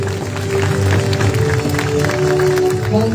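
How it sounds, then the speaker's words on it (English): A graduation ceremony audience applauds the graduates, dense sustained clapping filling the hall at high volume for about three seconds with a steady hum beneath. "let's give a resounding round of applause to our graduates of Batch"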